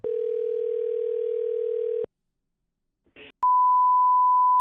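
A telephone dial tone plays while calling a coin shop, a steady hum for two seconds, then a short pause and a few brief clicks and bleeps, followed by a loud, clean, continuous higher tone.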